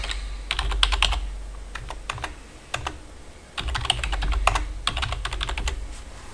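Keystrokes on a computer keyboard enter a username during a Chakra Linux install, coming in short clustered bursts of clicks separated by pauses over a low steady hum, with no talking.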